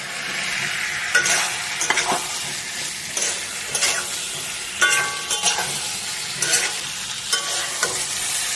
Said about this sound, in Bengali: এবার আমি ফুলকপি আর আলু ভাজাটা দিয়ে দেবো, দিয়ে একটু কষে নেবো।